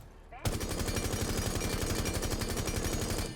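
Rapid automatic fire from the L8 rifle in Rainbow Six Siege, a loud steady burst starting abruptly and running unbroken for about three seconds with tight, even rhythm.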